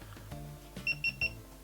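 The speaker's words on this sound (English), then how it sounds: "It's a nice little beep for when it comes on." Three short, high electronic beeps from a small waterproof camera as it switches on, evenly spaced and clear above a quiet background.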